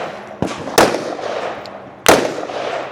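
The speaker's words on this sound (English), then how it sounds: "Scott will strike first with his first shot of rifle" Rifle shots crack out during a biathlon-style race, with a soft report followed by two sharp, loud bangs, each trailing a brief rumbling echo outdoors, and no voices.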